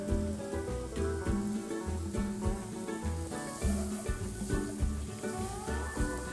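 A cup of diced sweet onion sautés in seasoned oil in a pan, a steady soft sizzle with light crackling, fairly quiet and close.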